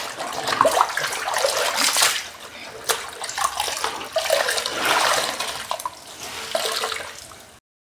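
A washed white shirt is lifted and sloshed out of a tub of water, producing loud splashing and dripping in repeated surges, with pauses between bursts.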